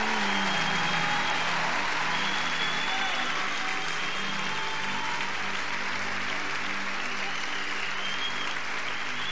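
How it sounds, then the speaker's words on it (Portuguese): A church congregation applauds in sustained, dense clapping that fills the space evenly from start to finish, loud and unbroken, with faint crowd murmur mixed in. "Você pode aplaudir Jesus?"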